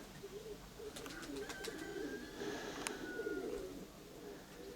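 Pigeons in the Konotop area coo softly in low, throaty murmurs over a quiet background, with a few faint clicks and chirps mixed in.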